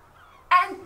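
Goose-like honking bird call heard in a stage production, a single short nasal honk bursting out abruptly after near silence, fairly close and clear.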